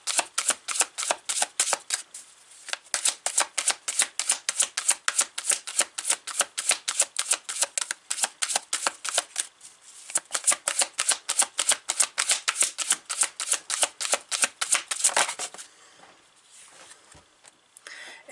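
Tarot cards riffle-shuffled close up in a long run of quick, crisp flutters that pause briefly near the start and middle, then fade into a softer rustle at the end, with no talking.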